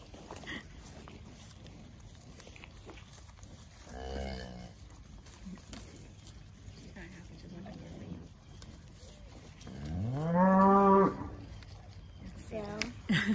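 Cattle mooing nearby: a short low moo early on, then a long, loud drawn-out moo, over faint outdoor background noise.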